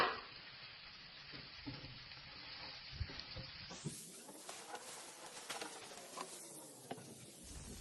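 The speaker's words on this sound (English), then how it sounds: "Saute the spices in garlic and scallion greens for 1 minute." Garlic and scallion greens sauté in melted butter in a pan with a soft, close, crackling sizzle and occasional stirring scrapes, fairly quiet throughout with no talking.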